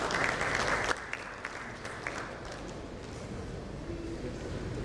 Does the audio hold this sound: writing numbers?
no